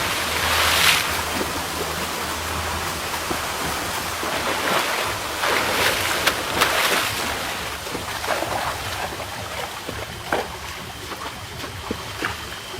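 Strong river current rushes and churns over slippery rocks in a steady, loud, broadband roar that continues without pause, with occasional splashes rising above the flow.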